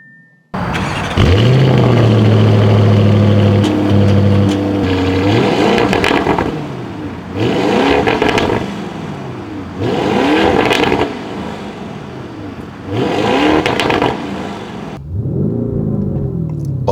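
A 2023 Lamborghini Urus Performante fires up with a loud starter whine and engine catch, then settles into a rumbling idle broken by four sharp, rhythmic revs that swell and fall back, heard up close with no talking.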